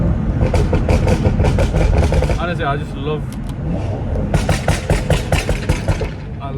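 BMW M240i fitted with its previous exhaust system, idling up close with a steady deep rumble and a few sharp throttle blips, as someone talks briefly over it.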